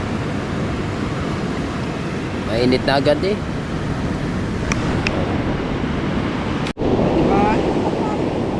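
Surf washing onto a beach in the early morning, a steady broadband wash under brief talk from a couple.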